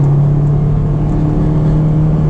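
Honda S2000 engine droning steadily from inside the cabin while driving, a constant low hum with road noise and no distinct revving peaks.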